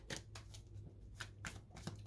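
A tarot card deck is shuffled by hand, giving quiet, close, crisp riffling bursts that repeat at an uneven rhythm over a low background hum, with no talking.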